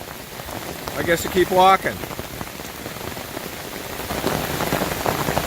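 Heavy thunderstorm rain pouring on the Appalachian Trail, a steady close hiss of drops on surfaces that swells toward the end, with a hiker briefly speaking partway through.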